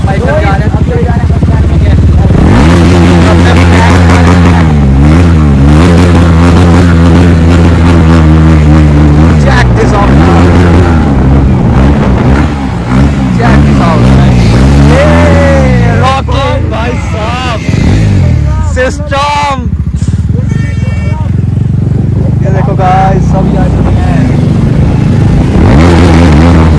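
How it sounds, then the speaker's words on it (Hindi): Motorcycles of a group of bikers ride past a bus stand in Nalagarh, engines droning and revving loudly and continuously as they go by, with people talking over the noise. "तो ये देखिए सारे बाइकर जा रहे हैं।"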